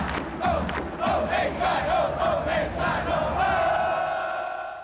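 A sellout basketball crowd roars and cheers in loud, swelling waves of voices and shouts, building and holding steady before trailing off at the end.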